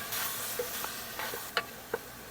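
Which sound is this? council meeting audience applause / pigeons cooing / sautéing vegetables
sautéing vegetables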